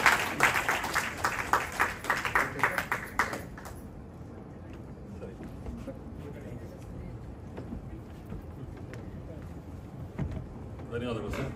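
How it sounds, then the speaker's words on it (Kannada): An audience claps at a Kannada literary foundation's closing ceremony. The applause is loud and dense for the first few seconds, then fades into quiet hall ambience with scattered small noises. "ಎಲ್ಲರೂ ಹೊಡೆದ್ರು ಚಪ್ಪಾಳೆ"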